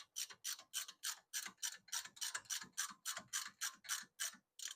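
Hand ratchet snugging bolts during a Volkswagen GTI / Audi A3 wheel bearing replacement: a steady run of about sixteen rapid, evenly spaced clicking strokes, close and clear with no talking.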